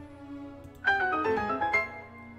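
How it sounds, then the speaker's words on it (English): A short chiming unlock sound effect built from bright layered tones, with a soft hum underneath and a second sparkling accent near the end, heard alone without speech. "This is the sound of the sentence being unlocked in your mind."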